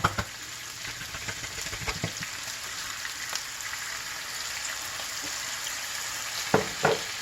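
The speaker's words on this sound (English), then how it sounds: "Let's go ahead and add in the cabbage." Canned, already-cooked cabbage warms in a hot pan, making a soft, steady sizzle throughout with a few sharp utensil clinks near the end and no talking.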